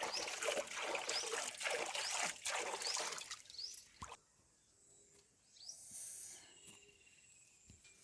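Water pours out of a pot onto watermelon plants in a village field, a broad close splashing rush for several seconds that stops abruptly, leaving faint trickles and insect chirps.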